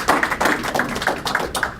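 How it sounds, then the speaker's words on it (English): A crowd claps for Lincoln University at a campus program, a brief burst of many hands with distinct sharp claps standing out from the dense patter, close and fairly loud. "let us give a round of applause for Lincoln University for its support"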